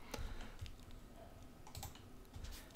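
Rapid typing on a computer keyboard while entering C# code at the command line, a quiet steady patter of key clicks with a few louder strokes, with no voices.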